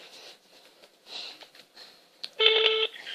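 A phone number is dialed for a prank call, with a burst of clear keypad tones after some quiet handling and breathing noises, close and distinct.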